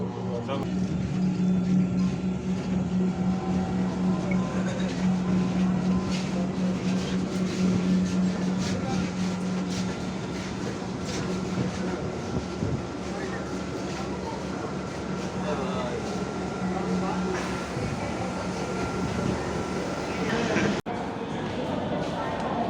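A Dhaka Metro train runs along with a steady, loud rumble and a constant low hum, the noise unbroken throughout, with muffled voices beneath it.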